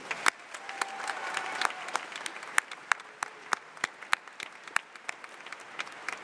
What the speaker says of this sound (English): Please join me in applauding these special guests.